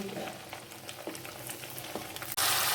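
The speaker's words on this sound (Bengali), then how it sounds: "বাকি লুচিগুলো ভেজে নিয়ে ফিরে আসছি" Sabudana luchi deep-frying in hot oil give a steady, close bubbling sizzle throughout, with a sudden louder burst of hissing near the end as more dough hits the oil.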